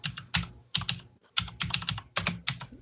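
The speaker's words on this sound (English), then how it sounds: "Chris has the noisy keyboard" A noisy computer keyboard clacks loudly in several quick bursts of keystrokes separated by short pauses, close and prominent with no talking.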